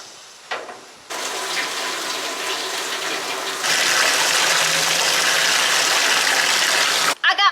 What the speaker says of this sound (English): Let's open up the cooker and get it filled with water.